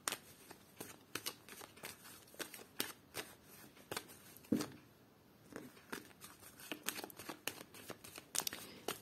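Tarot cards are shuffled by hand in a series of quick riffling bursts and soft slaps, close and fairly quiet, with brief pauses between shuffles and no talking.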